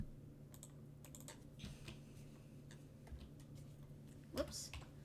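Fast, light tapping on a computer keyboard at close range, quiet and irregular, under a low steady hum, with one sharper knock near the end.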